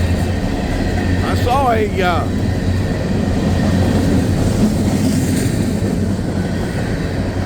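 Empty coal train with distributed power units rolling along a siding, a steady low rumble of cars and wheels throughout with a brief squealing tone near the start, a voice talking over it.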